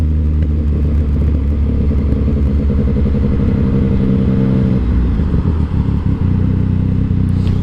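Motorcycle fitted with a quick shifter and short levers ridden around near a shop, its engine droning loud and steady up close with rumbling revs throughout, no talking.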